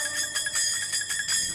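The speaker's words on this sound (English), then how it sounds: "the percussion is really anchored by these Hare Krishna bells" Small Hare Krishna hand bells ring in a repeated rhythmic pattern as percussion in a song, bright pulsing chimes layered in the music.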